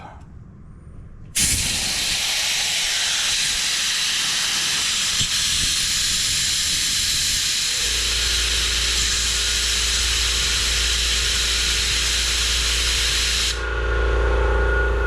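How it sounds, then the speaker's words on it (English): New, quiet air compressor running in a basement: a loud, steady hiss and a low, even motor hum that starts abruptly and continues unbroken, close by, with no talk. "There's that new compressor, man. That thing is so quiet, I can still talk."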